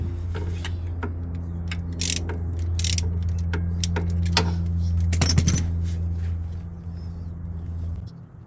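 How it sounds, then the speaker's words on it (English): A ratchet fitted with a 17mm bit works at the drain plug of a Golf Mk1, giving a few close metallic clicks and clunks over a steady low mechanical hum, with no talking. "So let's see if we can get that drain plug opened."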